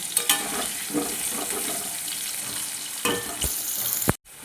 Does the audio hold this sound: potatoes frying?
yes